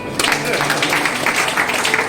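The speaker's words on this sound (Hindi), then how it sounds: "एक बार जोरदार तालियां।" A large group claps in loud, steady applause at a gathering during a Goa tour, a dense wash of hands continuing for about two seconds with voices mixed in.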